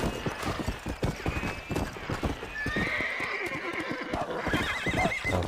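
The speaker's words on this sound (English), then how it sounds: "Go that way, you stupid horse." Horse hooves clip-clop in a steady galloping rhythm with repeated neighs and whinnies from a horse ridden in the Western video game Red Dead Redemption, loud and close with game ambience behind.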